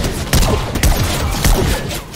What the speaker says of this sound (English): Do you hear gunshots?